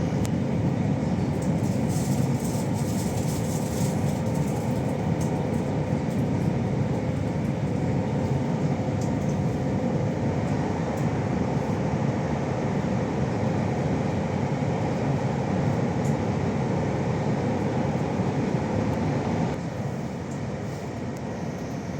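An ICNG high-speed train cruises at 200 km/h on the high-speed line between Rotterdam and Antwerp, giving a steady, loud interior rumble with constant rolling roar throughout and no voices.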